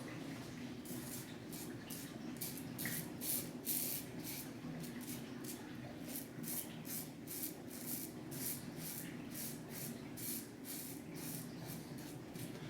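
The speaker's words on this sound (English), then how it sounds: "just let the weight of the razor do the work" A Parker 65R safety razor scrapes across stubble, a soft, steady rasping hiss repeated in quick strokes, close and continuous with no talking.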